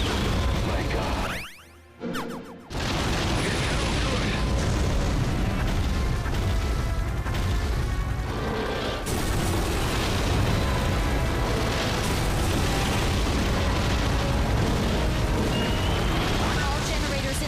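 Generators blowing up in a Godzilla video game: a brief dropout, then a sustained loud roar of explosions and crashing debris that continues under a narrating voice.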